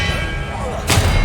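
A spell blast lands in Hogwarts Legacy: a sudden loud burst near the end, following a low steady hum of game ambience.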